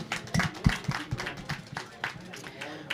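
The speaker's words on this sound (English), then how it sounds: "Let's give a warm applause to our distinguished panelists." At a business and investment forum, a small audience claps to welcome a panel, with scattered, uneven hand claps and some thumping movement mixed with faint voices, fairly quiet overall.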